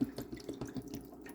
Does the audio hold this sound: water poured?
yes